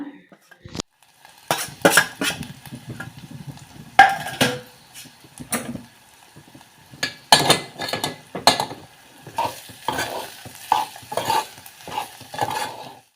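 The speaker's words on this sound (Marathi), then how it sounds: "तो फोडणीला दिला व्यवस्थित ढवळून घेतला" A spoon scraping and clattering around a pan as foraged wild greens are stirred into a hot spice tempering, irregular metallic knocks and scrapes with a soft sizzle underneath.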